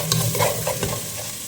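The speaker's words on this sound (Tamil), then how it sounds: "அப்புறம் சன்ஃப்ளவர் ஆயில் நான் ஊற்றுவேன்." Sunflower oil hits a hot pan already holding mustard oil for a village-style mackerel (ayila meen) curry, giving a steady, close sizzle with soft stirring scrapes throughout.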